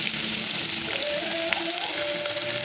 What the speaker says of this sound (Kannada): ಹಾಕಿ ಚೆನ್ನಾಗಿ ಫ್ರೈ ಮಾಡ್ಕೊಬೇಕು.